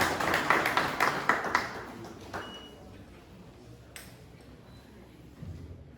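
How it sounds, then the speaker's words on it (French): A burst of audience applause welcomes a new deputy departmental director of the Ministry of Social Affairs at his installation ceremony. The clapping is brisk at first, then quickly thins and fades into quiet room noise with a few stray taps. "Il vous plaît de l'accueillir avec un grand applaudissement."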